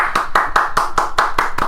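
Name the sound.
golf clap, quiet polite clapping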